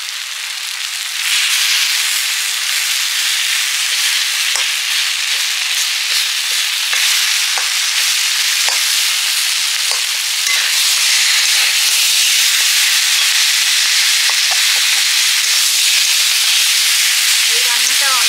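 Fish roe sizzles and hisses loudly in a pan with pumpkin and spices, a steady frying roar with faint stirring scrapes and a brief clink near the end, with no talk.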